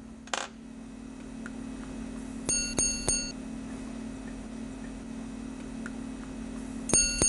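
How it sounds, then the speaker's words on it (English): A watch's triple repeater strikes on a gong made from a single piece of metal, giving bright, clear metallic chimes in a quick run of three, then a pause and another strike near the end, over a steady hum. "a triple repeater sounds, engineered by a gong fashioned from one piece of metal"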